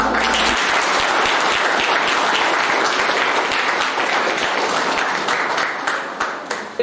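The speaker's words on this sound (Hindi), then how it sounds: "मैं चाहता हूं कि एक बार जोर से पिता परमेश्वर के लिए, उस खुदा के लिए जोर से तालियां हो जाए" An audience at a gathering breaks into loud, dense applause that holds steady for several seconds, then thins out and fades toward the end.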